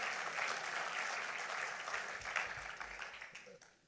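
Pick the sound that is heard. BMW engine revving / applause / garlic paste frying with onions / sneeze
applause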